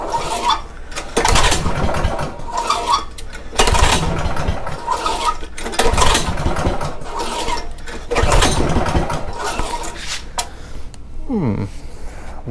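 Honda GX270 engine with no compression, running at full throttle: loud, rough, uneven mechanical roar with rhythmic surging and sputtering, close to the microphone throughout.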